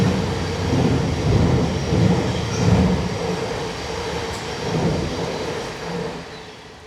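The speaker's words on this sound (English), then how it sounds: "Another train is approaching." A train rumbles steadily through a night scene, a broad, loud roar of rail traffic with swelling and easing waves of wheel noise as it draws near and runs past, with no voices.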